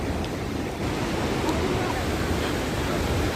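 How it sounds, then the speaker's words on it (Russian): Turbulent mountain river current near Lake Ritsa, a dense steady roar of rushing water, loud and continuous with no pauses. "здесь бурная река с течением."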